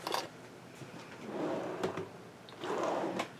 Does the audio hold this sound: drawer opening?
yes